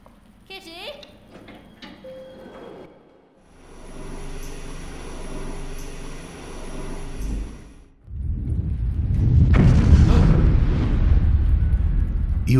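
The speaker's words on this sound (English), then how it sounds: "You hear a thunderous explosion." A deep, booming explosion in the video game Three Minutes to Eight swells and rolls on for several seconds after a quieter stretch of hum and clicks, loud and close.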